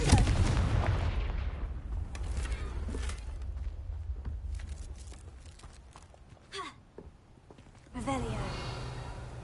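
Fire spell blasts from the Hogwarts Legacy video game: a loud burst opens, then scattered booming cracks and rumbles follow at intervals, with a voice speaking over the action.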